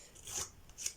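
Small scissors scrape along paper edges to age them for a junk journal pocket, giving two short, close, rasping strokes in an otherwise quiet moment.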